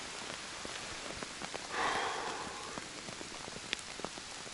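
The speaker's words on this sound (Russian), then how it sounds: "Дождик льет опять." Heavy rain pours during a thunderstorm at a fishing spot, a steady dense patter of drops on a plastic bag covering the camera, with a brief louder gush midway and scattered sharp drop hits.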